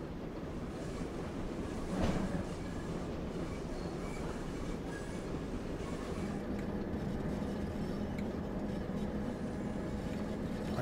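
Train in the Train Sim World 2 West Cornwall Local game pulling its carriages, a continuous rolling rumble of wheels on rail with a faint squeal near the start, steady and fairly close.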